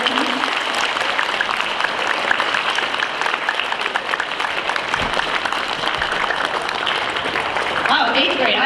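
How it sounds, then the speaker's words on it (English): Sustained audience applause greets a guest speaker at a school assembly with eighth graders, a dense steady wash of many clapping hands filling the room for several seconds, with cheering voices rising near the end. "So if you could put your hands together and do a warm applause for Mr. William Kuntz."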